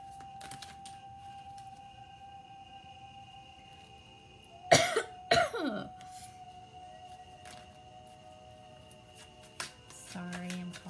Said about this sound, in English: Sorry, I'm coughing all over the place.